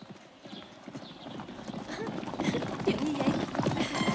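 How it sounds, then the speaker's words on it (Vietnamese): A horse approaches with hooves clip-clopping in a steady rhythm that grows louder and closer, with faint voices in the background. "Ngựa tốt tới rồi."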